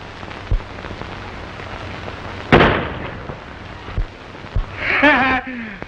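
Gunfire in a 1933 western film: a sharp loud shot stands out among a few lighter pops and bangs against a noisy old soundtrack, with a brief voice or whistle-like sound near the end.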